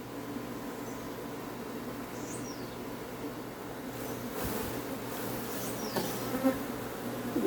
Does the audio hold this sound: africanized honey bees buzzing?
yes